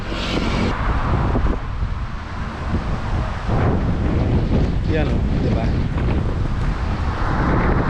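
Strong wind buffets the microphone in a constant roar on a rocky seashore, with brief spoken remarks partly buried under the gusts.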